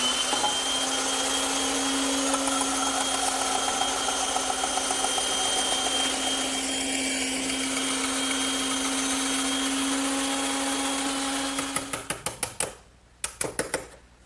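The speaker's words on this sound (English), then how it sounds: "I made this shoulder cut on the bandsaw" A bandsaw cuts the shoulders of wooden tenons with a steady, loud motorized whine and hum. It then winds down, followed by a few sharp clicks and knocks at the end.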